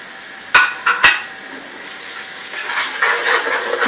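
Chicken with chili powder, turmeric, salt and coriander powder frying in a pan, a steady sizzle with a couple of sharp clanks of stirring up close.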